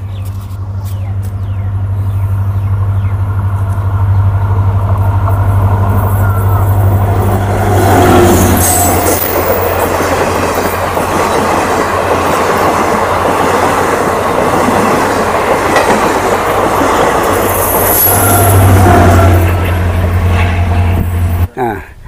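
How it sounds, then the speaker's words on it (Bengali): A train rumbles steadily past a flooded village, a continuous loud roar with rhythmic rail clatter building through the middle and lasting to the end, with a low hum underneath and people talking faintly. "আর ট্রেন একটা আসছে, ওই যে শব্দ পাচ্ছেন।"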